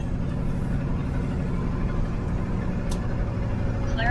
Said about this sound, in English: I have a loud truck.